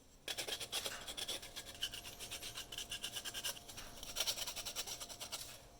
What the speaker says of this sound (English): I think I'm going to do is just to sand it down just a little bit, maybe take off the edges here